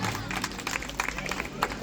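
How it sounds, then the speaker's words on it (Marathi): An audience claps for a young winner of a children's elocution contest at a prize-giving ceremony: dense, steady applause close by, with crowd murmur mixed in throughout. "सर्वांनी टाळ्या वाजवून तिचे अभिनंदन करावे।"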